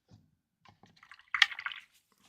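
A paintbrush rinsed in water, brief soft sloshing and dripping splashes with a brighter swish in the middle, faint and close in a quiet workshop.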